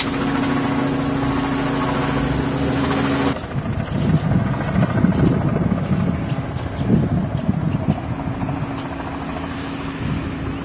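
Two helicopters hover close overhead, their loud, steady rotor thumping and engine drone continuous throughout, shifting slightly in tone partway through.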